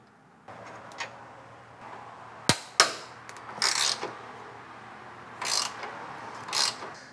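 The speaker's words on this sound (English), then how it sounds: "As you can tell by the sounds of these bolts, you're gonna remove these four T40s from the rad support." A ratchet backing out four T40 bolts from the radiator support of a BMW F10 535i with an N55 engine, giving sharp clicking bursts and short pawl rattles spaced apart, close by, with no voices.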